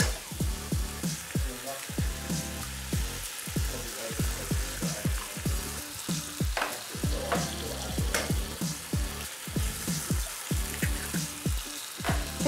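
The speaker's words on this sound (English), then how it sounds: "you're gonna drop in a fried egg." An egg fries in a pan beside fried rice, crackling and sizzling steadily at close range with repeated scraping and stirring strokes against the pan, fairly quiet overall.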